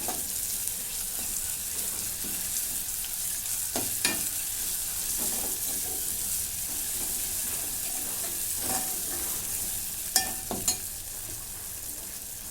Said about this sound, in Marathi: आले लसूणची पेस्ट आता पण परतून घेते